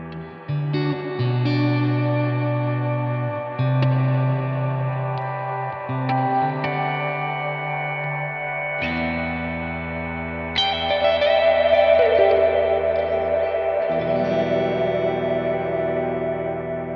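An electric guitar through the Blackstar AMPED 2 plays with the reverb hold function engaged, so chords swell and ring into a long ambient wash with echo, loud and close, with no talking.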